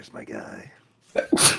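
A person sneezes during a tabletop roleplaying game session: one sharp, loud sneeze near the end, preceded by a short intake, after a stretch of nearby conversational speech.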